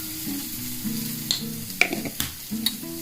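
Okra frying in a pan with pepper powder sizzles steadily up close, and brief scraping and clinking from stirring break in now and then, with no talking.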